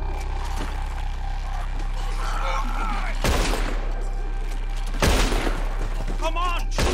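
Gunfire in the video game Red Dead Redemption 2, loud close shots and bursts during a shootout, two sharp blasts standing out over continuous rattling fire and background clamour.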